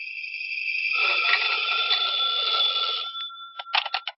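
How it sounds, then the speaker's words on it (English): An electronic telephone trills continuously at close range, a steady ringing tone that breaks into short separate bursts near the end. "When I got home, the phone was ringing."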